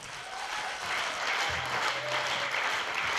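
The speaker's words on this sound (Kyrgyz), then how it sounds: "Кол чабуулар." Audience applause at a Kyrgyz cultural gathering, a steady wash of many hands clapping at moderate volume throughout, with no talk over it.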